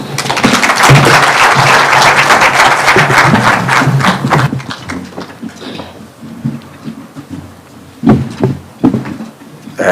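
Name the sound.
standing audience applause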